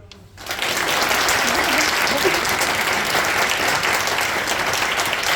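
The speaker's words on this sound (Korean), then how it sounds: "다시 한번 큰 박수로." At a Christmas praise concert in a church, a large congregation breaks into a big round of applause that swells in quickly and holds as steady, loud, dense clapping.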